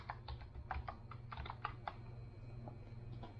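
Quick, irregular keystrokes on a computer keyboard as a password is typed while setting up Linux Mint on a Dell Optiplex 7060 workstation, soft and close over a steady low hum.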